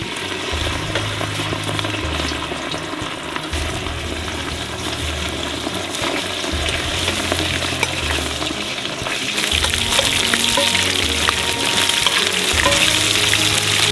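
Meat frying at maximum heat in sunflower oil and rendered tail fat inside a hot cauldron over a wood fire, a steady loud sizzle running continuously with stirring scrapes, growing slightly louder toward the end.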